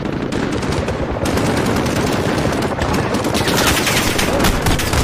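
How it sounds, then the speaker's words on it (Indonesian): Automatic weapon fire rattles from a rooftop in Call of Duty Modern Warfare as dense, continuous bursts of loud gunshots, steady and unbroken, with no talk. "Karena ada senjata otomatis sepertinya di atas gedung itu yang kita harus masuk."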